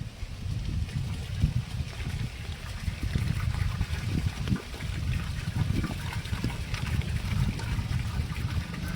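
Liquid fertilizer solution of Nanoshakti and Root Magic for brinjal plants pours in a steady splashing stream, running continuously and fairly loud throughout, with no talking.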